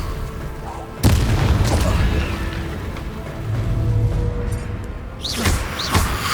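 A fire spell cast in the Hogwarts Legacy video game lands with a loud booming burst, followed by a sustained rumbling roar and a second sharp impact near the end.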